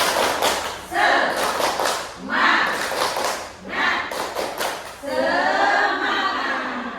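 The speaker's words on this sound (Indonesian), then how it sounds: "Yuk kita tepuk semangat dulu." A group of women claps a rhythmic 'tepuk semangat' routine indoors, with loud bursts of clapping in patterned sets separated by short pauses, joined by chanting voices and laughter.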